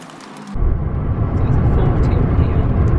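A car driven by a learner driver, heard from the cabin as a dense, steady low road and engine rumble that kicks in abruptly, with voices present.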